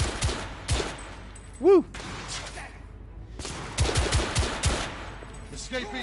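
Gunfire in The Order 1886, a Victorian-era third-person shooter: scattered shots and bursts around a bar under low background ambience, with a man's brief exclamation midway.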